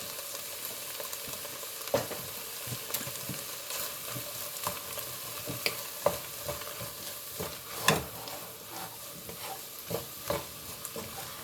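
Vegetables for taco empanadillas frying in a pan ahead of the meat, a steady close sizzle running throughout with scattered spatula scrapes and stirring clicks, no talk.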